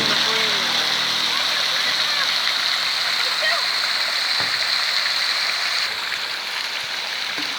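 A restored fountain in Piazza Giuseppe Garibaldi, Gemona, Italy, splashes and hisses continuously nearby, a constant rushing wash with a few faint background clicks and tones.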